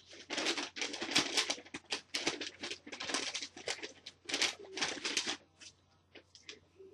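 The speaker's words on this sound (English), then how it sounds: "Sorry about the crinkling" Plastic packaging crinkles in close, sharp bursts of rustling, coming in irregular handfuls and thinning toward the end, with a low electrical hum in the background.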